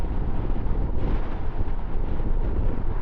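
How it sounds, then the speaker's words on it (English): Steady, loud wind buffeting a microphone while riding a Royal Enfield Himalayan 411 motorcycle, a continuous low roar with no pauses and no voices. "you can hear by the wind, it's windy"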